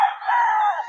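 A rooster crows once, loud and close, a sustained strained call lasting about a second.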